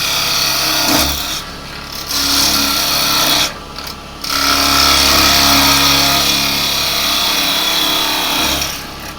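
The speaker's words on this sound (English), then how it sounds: "I'm just going to take some of this away with the spindle gouge." A spindle gouge cuts a spinning wood blank on a lathe, giving a steady rasping scrape that pauses briefly twice as the tool is lifted and brought back in, loud and close with the lathe's hum underneath.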